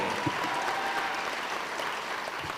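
Sustained applause from an audience at a school district awards ceremony honoring a retired administrator, an even wash of clapping that holds steady and moderately loud from start to finish.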